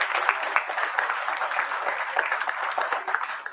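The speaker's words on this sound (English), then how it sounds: "Can we have a big round of applause here?" Applause from the audience at a university seminar, steady dense clapping that carries on for a few seconds at moderate loudness with no voices over it.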